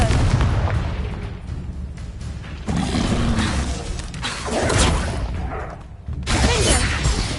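The Confringo blasting spell in Hogwarts Legacy sets off repeated loud explosive bursts with crackling, shattering debris, several separate blasts across the stretch of gameplay combat.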